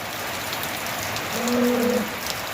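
Steady rain falls over a village, a soft continuous hiss of drops on surfaces, with a brief low hum rising midway through.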